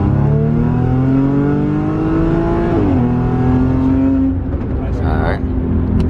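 A 2012 Ford Mustang GT in sport mode accelerates steadily with a loud, close engine drone, rising in pitch with a clean gear shift partway through and a second shift near the end.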